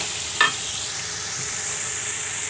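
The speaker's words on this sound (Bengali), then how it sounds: "টমেটো দিয়ে আবার একটু কষে নিচ্ছি দুইটা টমেটো দিয়েছি" Two tomatoes sautéing in a pan for a rohu fish and sweet pumpkin curry, a steady soft sizzle with one brief scrape of a spoon stirring near the start.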